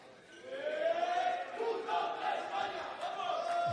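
Spanish fans in a karate arena at a university combat sports championship raise a sustained, swelling chant and cheer, a dense crowd roar heard at a distance throughout.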